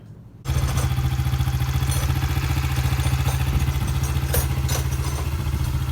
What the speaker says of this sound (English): It's even idling better than it did with that dirty filter.